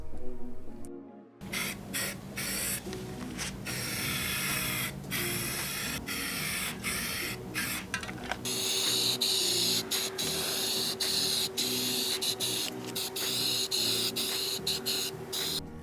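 Spray paint hisses steadily onto a particle board dresser from an aerosol can held down without release, a loud continuous spray broken by short pauses and quick restarts, with no voices.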